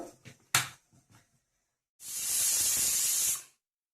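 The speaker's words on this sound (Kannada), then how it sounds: "ಇವಾಗ ಒಂದು ವಿಸಿಲ್ ಆಗಿದೆ, ಸ್ವಲ್ಪ ಕುಕ್ಕರ್ ತಣ್ಣಗಾಗಲಿ." Pressure cooker in a home kitchen cooking ivy gourd curry releases a steady loud hiss of steam for about a second and a half, cutting off abruptly, after a few soft clicks and knocks.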